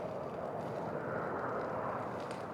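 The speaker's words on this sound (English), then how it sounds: "Another airplane taking off." A distant airplane takes off, a broad steady rumble with a faint airy hiss, heard from a cemetery near the runway.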